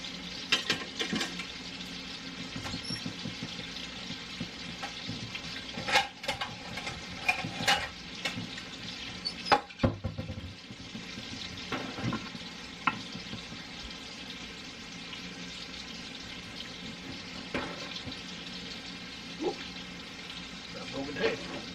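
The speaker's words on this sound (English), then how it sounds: "These things are frying like wild right there." Steady crackling sizzle of breaded deer cubed steak frying in a hot pan, continuous throughout with occasional louder pops and clinks, voices talking faintly nearby.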